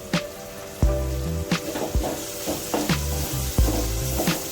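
Curry leaves sizzle in hot oil with ginger-garlic paste for a Telangana-style sprouts curry: a loud, close, continuous fry punctuated by regular sharp clanks of a spoon stirring against the pan.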